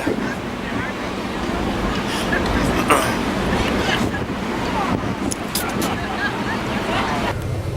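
Strong wind buffets the microphone on the coast of Deception Island in the South Shetland Islands, a loud continuous rushing roar with surf beneath it and faint voices in the background.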